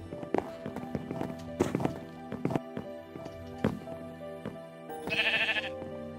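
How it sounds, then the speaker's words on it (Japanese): A sheep bleats in a Minecraft-style survival game, one short wavering call standing out near the end over a busy backdrop of game sounds, footsteps and clip-clop hoofbeats. "あれ、羊が。"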